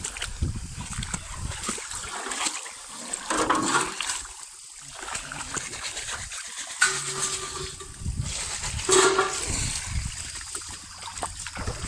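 Water sloshes and splashes over a gold-catching Dream Mat being rinsed in a stream, an uneven run of gurgling, trickling and splattering with a faint voice now and then.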